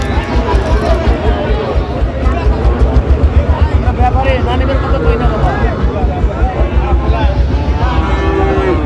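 Shahiwal cattle and bull calves at a farm market in Narayanganj mooing repeatedly, close and loud, amid crowd babble and people talking.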